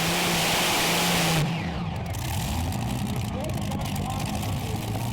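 Red Thunder, a pulling tractor with twin Griffon engines at a tractor-pulling event, roars loudly and then drops to a lower, rumbling drone. Crowd and venue noise surround it.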